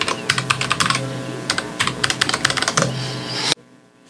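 Quick, close bursts of typing on a computer keyboard to log in, clustered keystrokes with short pauses, ending abruptly in near silence.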